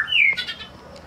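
A wild-caught magpie robin gives a single short call, a bright downward-sliding whistle followed by a couple of quick chirpy notes, close and alone.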